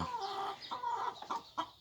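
Caged laying hens cluck in short, uneven bursts that are close and moderately loud, with no voices over them.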